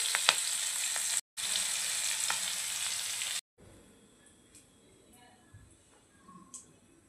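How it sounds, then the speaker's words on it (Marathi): Green chillies fry in a kadhai for a paneer chilli masala, giving a loud, close hiss and crackle for about three seconds with a brief break. Then the sound cuts to quiet room noise with faint taps. "अशा पद्धतीने बघा सुंदर अशी मिरची पण आपल्याला थोडीशी फ्राय करून घ्यायची."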